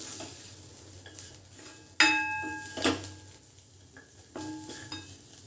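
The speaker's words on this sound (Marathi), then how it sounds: "दोन चमचे ॲड करते मी ते सुद्धा आपल्याला छानपैकी परतून घ्यायचं आहे तेलामध्ये" Two spoons of homemade chutney masala sauté in hot oil in a pan, a soft, close sizzle broken by sharp clinks and scrapes of a spoon against the metal.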